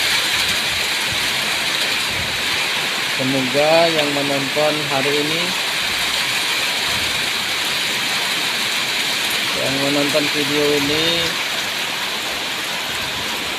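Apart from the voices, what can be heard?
heavy rain falling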